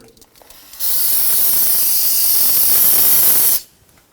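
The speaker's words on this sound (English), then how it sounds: "I'm going to use some spray solvent here to go ahead and clean up some of that residual brake fluid." A single long, loud spray of brake cleaner solvent hisses steadily for about three seconds, then cuts off abruptly, cleaning brake fluid during a front brake hose replacement on a 2017-2020 Hyundai Elantra.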